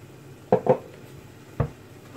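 A glass of sugar is added to eggs in a deep mixing bowl for an orange basboussa, giving a few close clinks and a soft granular patter against the bowl.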